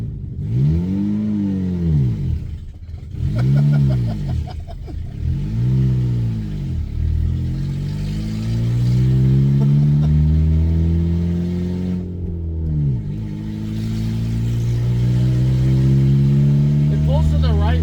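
A 1988 Yugo GVX's small engine revs repeatedly on a test drive, rising and falling in pitch several times before settling into a longer steady climb, close and loud.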